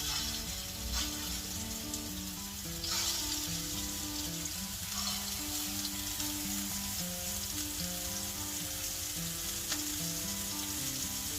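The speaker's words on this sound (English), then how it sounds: "You hear that sizzle?" Steady sizzling of meatballs frying in a pan, continuous crackle and hiss with faint clinks, no voices.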